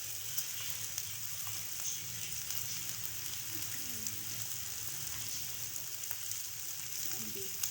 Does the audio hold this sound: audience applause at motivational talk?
no